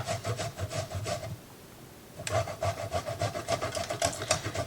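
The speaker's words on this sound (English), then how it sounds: "And right now I am grating some Parmesan cheese." Parmesan cheese being grated by hand in a home kitchen while making steak and cheese sandwiches, a steady rhythmic rasping of strokes that pauses briefly midway and then resumes, close and fairly loud.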